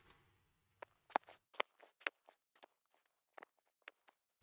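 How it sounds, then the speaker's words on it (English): Footstep sound effects dubbed in for a man walking across to a bike: a quiet series of crisp, evenly spaced steps over near silence. "So there was the footsteps as the guy was walking across"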